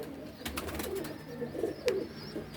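Soft, low pigeon coos repeat a few times close by, muffled and gentle against a quiet background, from a pigeon held still between the legs.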